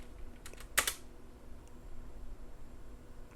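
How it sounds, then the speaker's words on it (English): A few keystrokes on a computer keyboard enter a short shell command: a quick cluster of clicks and one sharper tap, close and soft over faint room hiss, with no talking. "So I type exclamation mark, and let's run 11"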